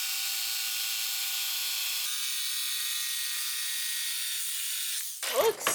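Power saw blade cutting a countertop during an Airstream trailer remodel, a steady high electric whine that drops in pitch midway, then stops, followed by brief voices and handling noise.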